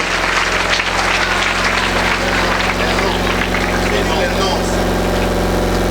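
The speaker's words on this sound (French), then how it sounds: "Vous pouvez applaudir pour le frère Edouard Yada." At a school-year opening gathering, an audience applauds for Brother Edouard Yada with a dense, even roar of clapping that lasts the whole stretch over a low steady hum, with voices mixed in.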